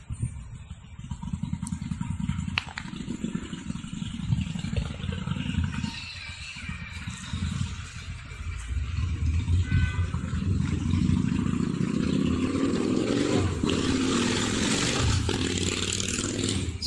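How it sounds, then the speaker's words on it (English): Motorcycle engines rumble and roar past on a street in Titusville, Florida, growing louder and denser toward the end, with mixed traffic clatter in the background. "the only blast you hear today in Titusville is motorcycle engines"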